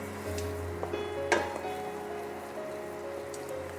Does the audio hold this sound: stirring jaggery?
yes